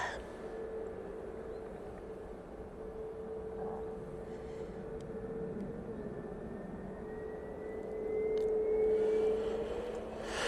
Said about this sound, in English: this is the Easyjet A321neo going off to Palma de Mallorca